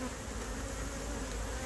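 Honey bees drone steadily around a hive, a dense, continuous buzz heard close up with no pauses and no talking.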